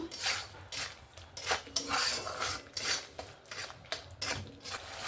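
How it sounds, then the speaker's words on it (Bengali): Spice paste being sautéed in a pan for a Bengali bangra fish curry, heard as repeated scraping and clinking of a metal spatula against the pan in irregular strokes, close and fairly loud, with no talk. "মশলাটাকে ভালোভাবে কষিয়ে নিয়েছি"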